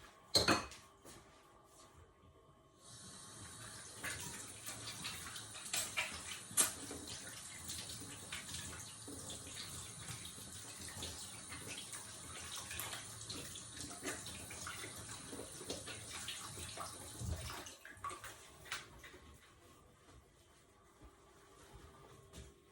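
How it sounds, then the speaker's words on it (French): Tap water runs steadily for about fifteen seconds while hands are rinsed at a kitchen sink after kneading dough, with faint clinks of dishes and the tap turning on and off. "Je me rince les mains."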